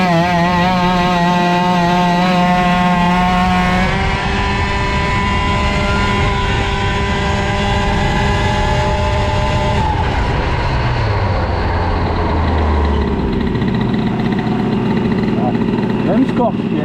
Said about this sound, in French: Si je sens que le moteur est pas content, je couperai les gaz